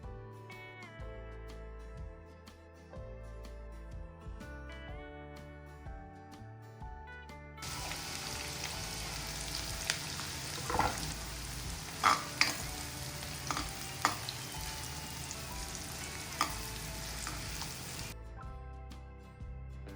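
Two medium onions hit hot oil in a pan for mutton kheema, setting off a loud, steady sizzle with occasional stirring scrapes and clinks; quieter music-like tones precede and follow the frying.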